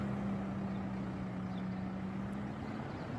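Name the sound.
tractor passing by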